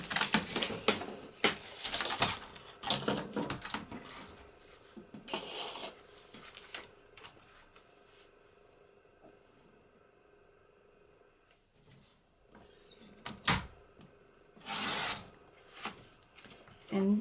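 Paper being trimmed for a handmade recipe book cover, a series of soft rasping cutting and rubbing strokes in bursts, close and fairly quiet, with a lull in the middle.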